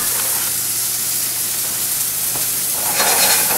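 Norwegian salmon pan-searing in a hot pan, a steady close sizzle that flares louder near the end as the fillet is flipped.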